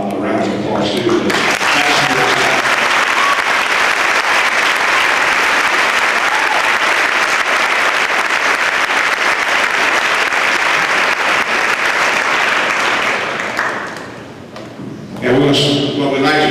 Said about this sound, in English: So these guys deserve a lot of round of applause too.